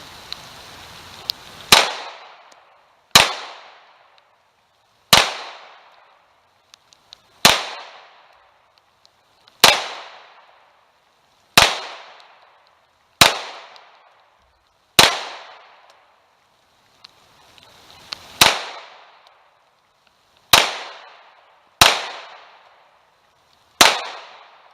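SAR B6 Hawk pistol, a CZ75 clone, firing 115 grain full metal jacket Winchester rounds during a function test: about a dozen loud, sharp single shots at irregular one-to-two-second intervals, each with a short echoing decay.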